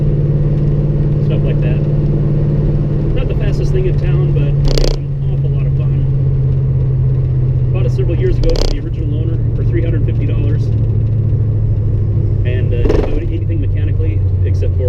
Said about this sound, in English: we're driving in a 1960 Studebaker Lark with a V8 and a T10 4-speed, 4-barrel dual exhaust, tube headers